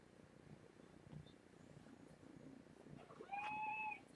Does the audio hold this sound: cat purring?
yes